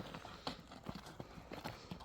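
A well-bred young horse's hooves clip-clop faintly over the ground in an irregular run of soft thuds, heard at a distance with no talk over them.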